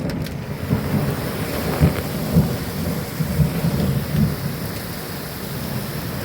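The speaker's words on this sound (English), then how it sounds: "Really heavy bits of hail are hitting the boat." Heavy hail and rain pounding an off-grid houseboat during a tornado-season storm, a dense, steady roar with scattered heavier thuds and gusts of wind across the mic.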